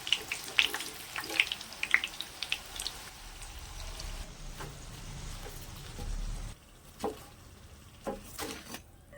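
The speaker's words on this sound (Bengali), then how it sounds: "ভাজতে ভাজতে দেখুন সুন্দর কিন্তু একটা কালারও এসে গেছে" Maggi pocket mughlai frying in hot oil, a steady close sizzle with scattered pops and crackles that thins out partway through, leaving faint bubbling and a few sharp spits.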